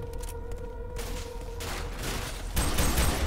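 Gunfire from shooting at enemies in the video game FEAR 3, bursts of rapid shots layered with game noise and crashes, loud and close, with no talking.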